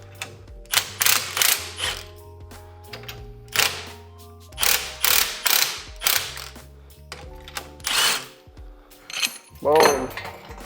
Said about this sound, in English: compress the spring, pull this guy out right here, decompress the spring, and this will come right off